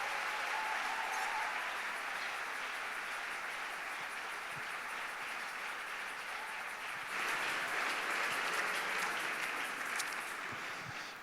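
A church congregation applauds in acclaim during a service, steady sustained clapping from a crowd that swells slightly louder partway through, with no talking over it.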